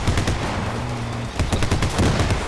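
Rapid gunfire from the video game Squad, with sniper shots among dense overlapping bursts that crack loudly and continuously throughout.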